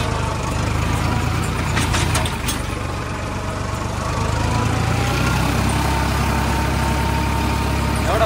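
A tractor's engine runs in second gear, a loud, steady, low drone that holds throughout without pauses.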